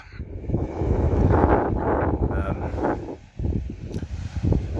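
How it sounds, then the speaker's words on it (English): A strong northeasterly wind blows over a bank beside the water, heard as a gusty rushing buffet that swells and dips, with a faint bird call. "plenty of wind coming over the top"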